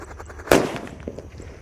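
A disco happy flower firework goes off with a single sharp, loud bang, followed by a brief crackle and fizz as it fades, with a couple of faint pops afterward.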